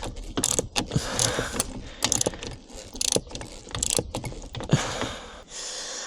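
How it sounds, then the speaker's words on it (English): A ratchet wrench tightening caravan bracket bolts, giving rapid bursts of metallic clicking in irregular spurts with short pauses between strokes, close and fairly loud, without speech. "got the ratchet switched to the right side. Tighten, not loosen."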